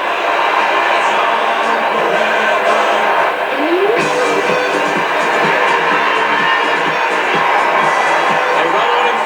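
A full stadium crowd in the AFL Evolution 2 video game keeps up a constant, loud roar and cheer at a SANFL Grand Final between North Adelaide and South Adelaide, with no letup throughout.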